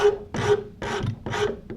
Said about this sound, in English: And then I can just take a rasp and clean up to the line.